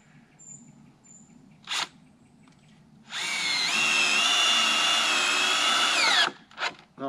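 Power drill driving long 90 mm screws at an angle into wooden rafters: one loud, steady whirring run of about three seconds with a short buzz before and after, with faint birdsong in the quiet outdoor background.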